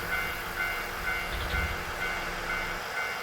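A train starting to move in the video game Nostalgic Train: a steady low rumble with faint tonal hum and soft rhythmic clicks, swelling slightly midway.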